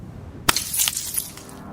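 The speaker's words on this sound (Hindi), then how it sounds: "उन्होंने वॉश बेसिन पर रखी एक कांच की बोतल उठाई और उसके सिर पर दे मारी।" A glass bottle smashes against someone's head in a horror story, one sharp loud crash followed by a brief spray of bright shattering fragments that quickly fade.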